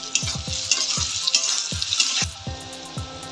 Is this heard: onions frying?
yes